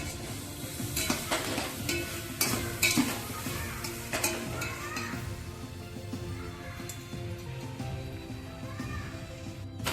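Potatoes, capsicum and other chopped vegetables for vegetable biryani sizzling and being stirred in a hot pan, with steady frying hiss and repeated scraping and clinking of a spoon against the metal throughout.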